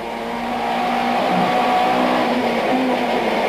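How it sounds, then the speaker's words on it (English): BMW and Opel touring cars race around the Port Elizabeth circuit in a 1994 South African championship round, engines droning loudly and continuously as they accelerate out of a corner, with no talking. "The BM has enough power to accelerate away from the Opel out of the corner."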